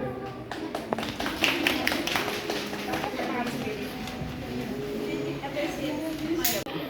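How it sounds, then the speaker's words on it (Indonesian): A classroom group of students clapping for a presenting group in a counselling lesson, a steady patter of claps with a faint voice underneath, fading out near the end. "Tepuk tangan buat kelompok roda pilihan"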